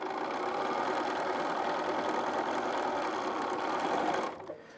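A sewing machine stitches a quilted postcard, a close, steady rapid whirring that runs for about four seconds before stopping abruptly, leaving a brief soft click.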